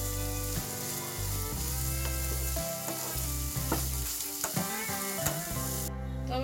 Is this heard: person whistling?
no